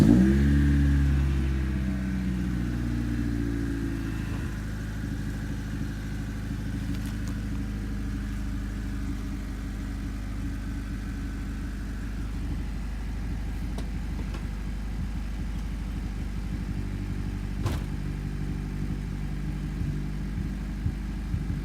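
A car with rolled fenders being driven, its engine revving briefly at the start and then settling into a steady, loud mid-pitched drone that continues throughout with no talk.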